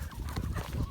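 Chickens and roosters in a farm coop make a steady mix of low fowl calls and clucking, close and fairly loud for under a second with no talking.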